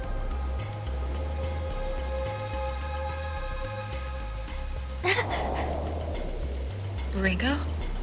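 Steady rain falling in the video game Soul Hackers 2, a constant hiss running throughout over low game music, with brief breathy voice sounds near the end.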